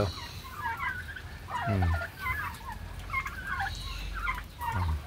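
Turkeys gobble in several bursts, a couple of loud close gobbles among quieter chattering calls from the flock.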